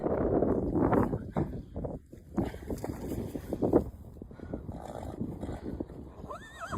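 A newborn foal, just rescued from a ditch, whinnies in short rising calls outdoors, with shuffling, clatter and wind noise between them and a clear high neigh at the end.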